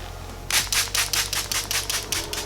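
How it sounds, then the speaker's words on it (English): LA Colors makeup setting spray pumped in a quick series of about eight short, hissing bursts at close range, each spritz crisp and evenly spaced with no talking. "Now I'm gonna go in with my LA Colors setting spray."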